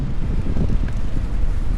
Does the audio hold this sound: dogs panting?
no